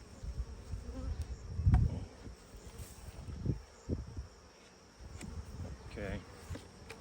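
Honey bees buzz close by during a beehive inspection, their hum rising and falling in short bursts among quiet handling noises.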